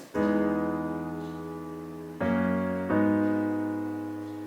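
Three sustained chords sampled from a song ring out in turn, warm and harmonic, each struck cleanly and left to decay slowly with no voices.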